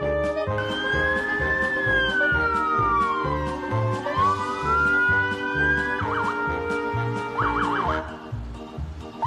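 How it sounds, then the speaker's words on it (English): A toy police car siren wails loudly and continuously, sweeping up and down before breaking into a quick yelping warble, over a steady rumbling engine. "Police car。"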